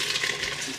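Pasta cooking water drains from a pot in a brief, steady rushing pour, close and moderately loud, with no talking.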